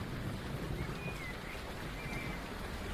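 Rain falls steadily outside an open window at the end of a summer day, a soft, even patter and hiss heard from indoors, fairly quiet and continuous with no voices.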